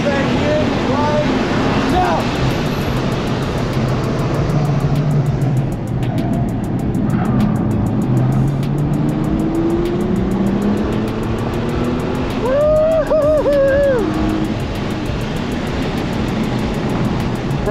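Supercharged Nissan 350Z engine pulling hard through a timed track lap, its steady loud drone rising and falling in pitch with gear changes and corners, a sharp whine climbing near the end, with voices talking over it.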